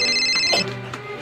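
A mobile phone rings with a bright, repeating electronic ringtone, loud and close, the tone breaking off partway through.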